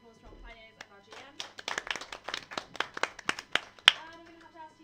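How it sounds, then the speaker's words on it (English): A small audience at a live tabletop game session claps for the players and game master, scattered uneven hand claps building to a sharp final clap, fairly quiet and close. "give another round of applause to our players and our GM"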